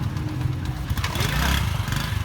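Motorcycles outside a restaurant start up and idle for the ride home, a dense, continuous low engine rumble with light revving throughout.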